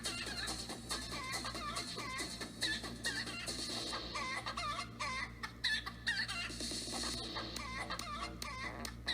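Chickens cluck continuously in a noisy, crowded scene, with several birds calling over one another at close range in a busy, steady flock chorus and no voices.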